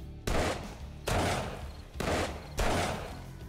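Magnum revolver fire in 7 Days to Die during a Blood Moon: four loud, booming shots roughly a second apart, each with a long reverberant tail, no talking.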